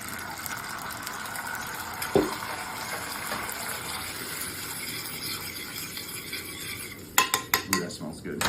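Calabrian chili sauce is added to a pan and stirred, with quiet scraping and a soft pour, then a burst of rapid clinking utensil strokes against the pan near the end.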